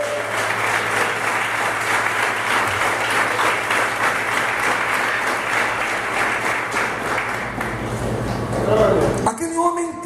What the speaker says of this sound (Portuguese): Dê uma forte salva de palmas ao Rei.